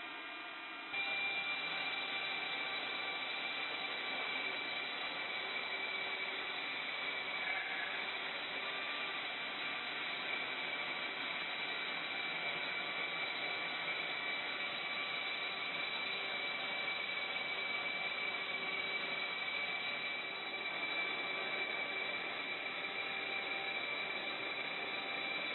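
A Logosol PK-1500 stack cutter runs through a cut with a steady, loud, droning machine whine and hiss that holds evenly for about 25 seconds, with no talking over it.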